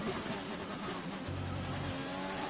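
In a Codemasters racing video game, a race car engine drones and revs with a glitchy, uneven tone, loud and continuous during a hot lap around the Canadian GP circuit.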